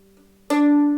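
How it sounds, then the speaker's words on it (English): A single plucked string on an in-tune mandolin rings out sharply and sustains with bright overtones, close and clear, following a faint quieter tone before it. "So this is the sound of an in-tune mandolin."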